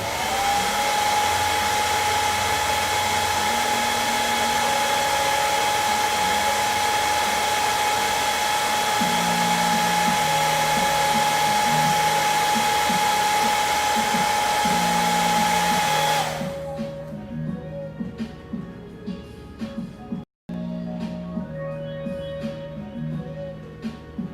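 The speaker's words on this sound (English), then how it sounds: "Sorry if that hair dryer comes off as loud." A hair dryer drying weathering on a model roars loud and steady, then cuts to a lower setting with a fluttering hum and a brief dropout.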